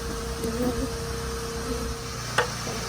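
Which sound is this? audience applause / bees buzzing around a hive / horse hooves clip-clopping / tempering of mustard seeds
bees buzzing around a hive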